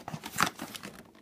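Crinkling and tearing of a cardboard advent calendar door being pushed open, a quick close burst of papery crackles that fades within a second.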